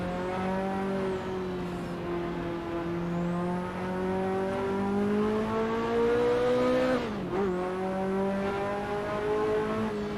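A Ferrari race car engine howls steadily at high revs on track at Mugello, its pitch rising through the gears with a brief dip at a shift, loud and continuous from inside the car.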